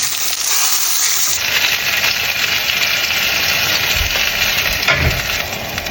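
Skin-on salmon frying skin side down in hot oil, a loud, steady sizzle filling the whole stretch with a couple of low thumps near the end.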